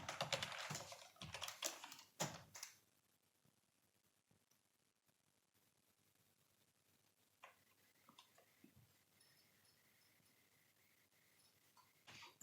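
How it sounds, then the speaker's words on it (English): Someone types a git command on a computer keyboard, a quick flurry of close keystrokes at the start, then quiet with scattered faint taps and a few last clicks near the end. "So I will be typing this like this."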